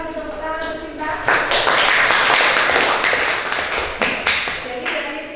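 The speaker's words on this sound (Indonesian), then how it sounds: "Kasih tepuk tangan untuk Sinta." Classroom applause for a student, a burst of clapping from pupils that rises after a spoken line and continues for a few seconds, with voices at the start and end.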